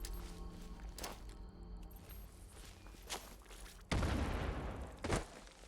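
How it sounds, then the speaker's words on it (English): A frag grenade explodes in the Fallout 76 video game, heard as a sudden broad boom that lingers into a rumbling tail, joined by a few sharp thumps and impacts, moderately loud, with no talking. "get our frag grenade here"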